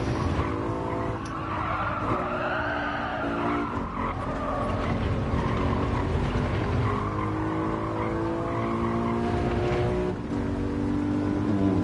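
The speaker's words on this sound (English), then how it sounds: "Ooh, rev limiter." Lexus LC500 V8 in Gran Turismo 7 at Watkins Glen held near the rev limiter, a loud continuous engine drone with tire squeal across the racing run, no talk.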